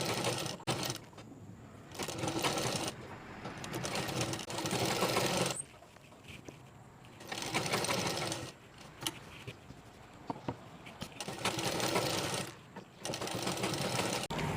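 A sewing machine stitches the border of a nightie in steady bursts of fast, even whirring, pausing briefly between runs, close and moderately loud with no voices.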